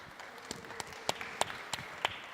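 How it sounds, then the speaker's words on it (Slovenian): Sparse, scattered claps from a conference audience welcoming panel guests at a fitness and wellbeing round table, a handful of distinct hand claps with gaps between them, fairly faint. "Dajmo en aplavz."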